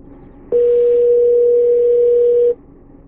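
Steady electronic call tone through an Android Auto head unit in a car with a widescreen display, a single sustained pitch lasting about two seconds, loud and clear over faint background hum, with no talking.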